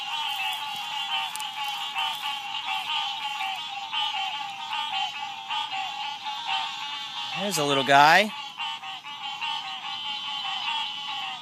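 A dense, continuous chorus of frogs calls from a pond, a steady high trilling wall of sound with no single caller standing out. Someone speaks briefly, close by, partway through.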